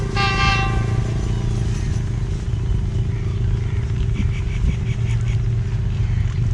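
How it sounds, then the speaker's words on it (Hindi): Horn of a G40 diesel locomotive at Pano Aqil Cantt railway station, hauling a coal train, sounding loud and steady near the start over a constant engine rumble that continues throughout. "G40 की हॉकिंग सुनाई दे रही है आपको"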